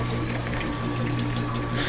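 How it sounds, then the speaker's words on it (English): Steady rush of water running continuously while sparging grain for a German wheat homebrew, with a constant low hum beneath the broadband flow and no talking. "we're still sparging here"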